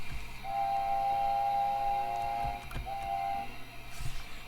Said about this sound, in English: we've got 2 different whistles that I'd like to show you just before we go.